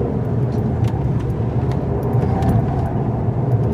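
A 2018 Volkswagen Tiguan SUV is pushed through corners on a road test. A steady interior drone of engine and tire rumble carries on without a break, with faint rattles over it and no voices.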